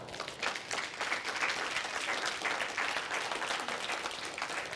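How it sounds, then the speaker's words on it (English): A church congregation at a Sunday service applauds its guests with steady, even clapping that fills the room at a moderate, somewhat distant level without any talk on top. "I would like for our church to give our special guest, all of our guests, a round of applause"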